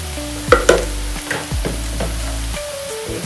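Homemade masala being stirred into dum biryani in a pot on a medium-flame gas stove, with a few near, distinct scraping and clinking strokes over a steady low sizzle.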